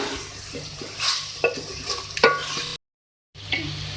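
Beef and yogurt fry in a pan while a spoon stirs and scrapes them, producing scattered clinks and scrapes over a soft sizzle. A short gap of silence comes before the stirring resumes.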